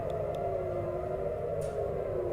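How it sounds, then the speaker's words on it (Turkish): Air raid sirens wail across Israel during a missile attack from Yemen, a steady loud rising-and-holding tone filling the whole stretch without pause. "Füze saldırısına uğrayan İsrail'de sirenler çalmaya başladı."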